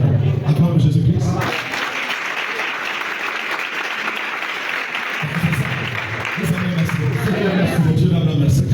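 A church congregation claps and applauds in praise of Jesus Christ, a dense sustained burst of hand claps with crowd voices, framed by a preacher speaking loudly before and after.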